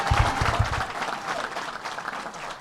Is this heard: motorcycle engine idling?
no